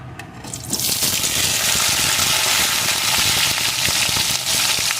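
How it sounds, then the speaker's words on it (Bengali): Potato pieces frying in a hot whole-cumin and chilli tempering for a vegetarian cabbage curry, a loud, steady close sizzle that swells right after the pieces drop in and holds evenly, no talking. "ফোড়নটা সুন্দর করে ভেজে নিয়ে এর ভিতরে আমি দিয়ে দেবো কয়েক টুকরো আলু"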